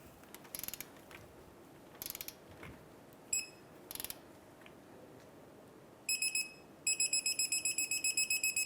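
A hand ratchet clicks as it tightens a ball joint nut on a Mazda CX-9 during a CV axle replacement, short bursts of clicks at first, then a faster run of rapid, evenly spaced ratcheting strokes, quiet and close.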